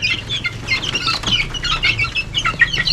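A flock of backyard chickens clucks and chatters close by in a busy, overlapping stream of short calls, with a low rumble underneath.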